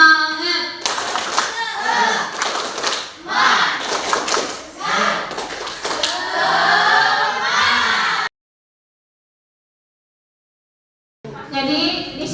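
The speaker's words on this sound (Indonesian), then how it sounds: "Tepuk semangat." A class clapping the Indonesian 'tepuk semangat' cheer, rapid rhythmic group claps mixed with children's chanting voices, loud and close, breaking off into a few seconds of silence before clapping and voices resume.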